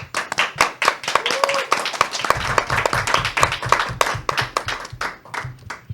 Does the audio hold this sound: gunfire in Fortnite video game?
no